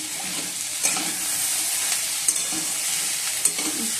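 Chopped onion sizzling in a hot pan in a home kitchen, a steady broadband frying hiss throughout with a few brief stirring scrapes and knocks, close and fairly loud, no talking.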